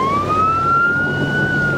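Emergency vehicle siren from a 1970s fire apparatus driving scene, a loud steady rising wail sustained throughout over rumbling road and engine noise.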